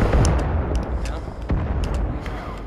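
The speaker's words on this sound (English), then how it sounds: "watch out for the other grenade" Grenade blasts and gunfire in the multiplayer shooter Firewall Zero Hour, with heavy booms and sharp cracking shots packed close together, loud and dense, while players talk over the fighting.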